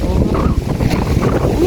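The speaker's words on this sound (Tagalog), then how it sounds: "Ang lakas ng hangin." Strong wind blows through a garden of potted plants, roaring hard and constantly against the microphone in a loud, close rumble with no pauses.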